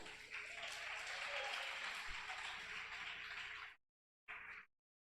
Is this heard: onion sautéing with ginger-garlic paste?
no